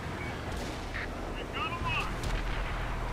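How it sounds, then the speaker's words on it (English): Tank cannon fire in World of Tanks on the Sacred Valley map, low booming shots with rumbling echoes under a player's commentary. "We've got some guns shooting at that E50 and T44."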